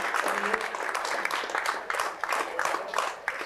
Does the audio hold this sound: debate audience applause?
yes